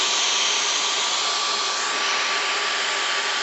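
A Dyson V15 Detect Plus cordless vacuum runs with a steady, loud, high-pitched whirring hiss and a constant tonal whine, close and uninterrupted.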